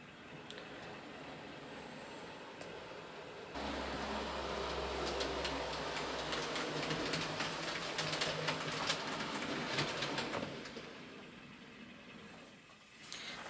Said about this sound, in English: So bring that train into platform 1.